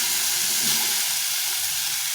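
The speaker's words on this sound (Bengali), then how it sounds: "এটাকে ভালো করে একটু ভেজে নিই" Bitter gourd, potato and other vegetables frying in oil in a pan for a fish curry, a steady loud sizzle with bright hiss and occasional stirring, no talk.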